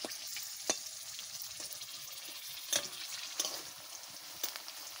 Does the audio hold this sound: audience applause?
no